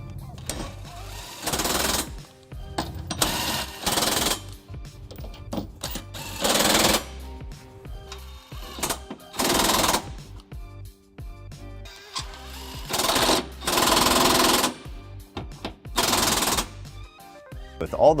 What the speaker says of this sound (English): I'm just going to snug these up with a 19mm socket before we get them ready for a final torque.